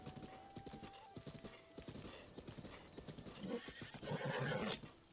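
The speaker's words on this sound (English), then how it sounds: "My horse is not going the direction I wanted it" Horse in the video game The Legend of Zelda: Breath of the Wild, its hooves clip-clopping in a steady galloping rhythm with a whinny, loud and close over game music.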